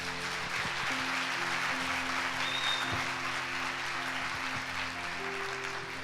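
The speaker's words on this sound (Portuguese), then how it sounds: "Só aqueles que se alegram aplaudam a Jesus." A church congregation at a Sunday service applauds together, a loud, dense wash of many hands clapping continuously, with a low sustained organ or keyboard tone underneath and faint crowd murmur.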